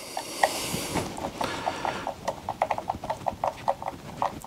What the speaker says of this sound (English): You do get a flat-headed driver tool bit of this, but it's easier with a Torx bit. So we can now screw that down